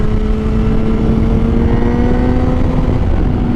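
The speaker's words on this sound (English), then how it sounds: "I just want to clutch it and wheelie." A Kawasaki motorcycle engine running loud and close at a steady drone, with no talking.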